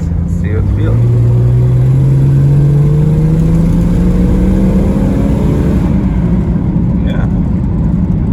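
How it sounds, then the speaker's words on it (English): Jeep Cherokee XJ engine revving hard at full throttle during a test drive, pitch climbing steadily as it accelerates, loud and close from inside the cabin, with brief voices at the start and end. "Floor it, see how it feels."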